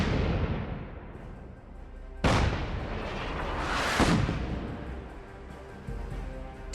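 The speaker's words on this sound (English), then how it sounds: "I made the trek over there and tried to use the artillery." Artillery guns fire in the Fallout 4 game in a WWI-style setting, two loud booming blasts a couple of seconds apart, with a further thud near the end over a rumbling battlefield background.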